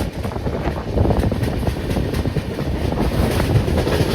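Humsafar Express train from KSR Bengaluru to Nanded picking up speed after leaving a station, heard from inside the coach as a loud continuous rumble with rail clatter and wind noise.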